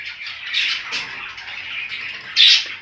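Budgerigar chicks raise a continuous chorus of high, raspy begging squawks at close range, with a louder burst near the end.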